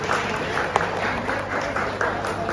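Audience at a stage event clapping as guests are called up, a sustained patter of many hands with a few sharper individual claps standing out, moderately close and continuous.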